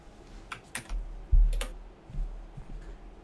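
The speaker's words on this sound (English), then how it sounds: "I like that I can hear the click, click, click." Keys clacking on a mechanical keyboard, a few irregular bursts of crisp clicks with pauses between them, close and fairly quiet, with no talking.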